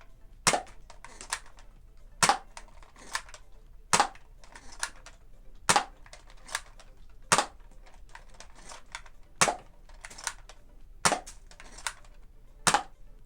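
A Nerf Elite 2.0 Wild Edition Trailblazer RD-8 revolver-style blaster fired one-handed, with about nine sharp, close shots spaced roughly 1.5 seconds apart, separated by softer mechanical clicks of priming and cylinder rotation.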